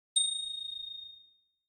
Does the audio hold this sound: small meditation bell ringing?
yes